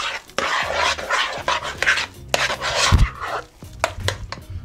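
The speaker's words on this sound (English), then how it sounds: "Stir them in there." Mashed potatoes with Parmesan and cream being stirred in a pot, making a steady run of close scraping, clinking and squelching utensil noises with brief pauses between strokes.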